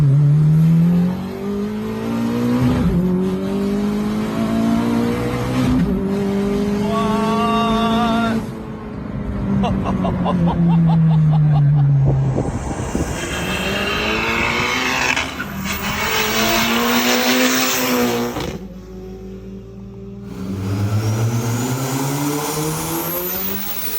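A modified Honda Brio heard from inside the cabin revs hard and accelerates through repeated gear pulls, its engine note rising and dropping loudly and continuously for the whole stretch.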